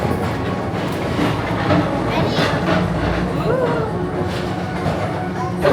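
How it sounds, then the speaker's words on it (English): Magic Kingdom PeopleMover train gliding along its elevated track, a continuous rolling rumble with soft clicks and a passing squeal, while a recorded voice narrates over the ride. "Don't worry, your express train keeps on rolling through the future"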